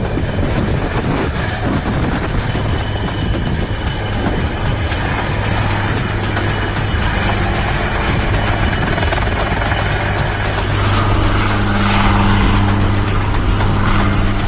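A Dhruv Advanced Light Helicopter of the Indian Army flies in the Siachen region, its rotor and engine giving a loud, steady drone that swells slightly toward the end.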